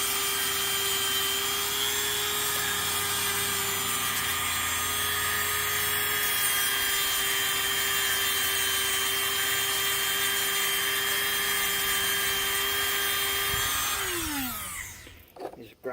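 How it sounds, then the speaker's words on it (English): A rotary tool whines steadily and close while grinding a plastic catfish noodle used for jugging, then winds down and stops near the end. "Just grind on it a little bit."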